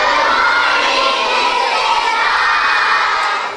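A large group of schoolchildren at an award assembly shouts a greeting together, loud and close. The sustained, crowd-like roar holds for a few seconds before tapering off at the end.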